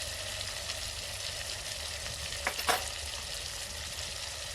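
Coriander, cumin, salt and dry red chilli crackle quietly in hot tempering oil for a village-style khichdi, a steady soft sizzle broken by a brief stirring scrape midway.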